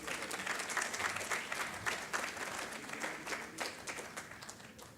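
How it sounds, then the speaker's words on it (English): At a convention keynote, an audience gives a warm round of applause to welcome a consultancy chairman. The steady, faint clapping tapers off slightly toward the end. "with a warm round of applause, please help me welcome the chairman of Preron Consultancy, Mr. Pranay Vakil."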